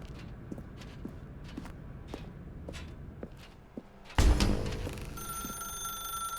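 Soft footsteps pad across a quiet room, then a telephone suddenly starts ringing, loud and close, with a sustained electronic ring that carries on to the end.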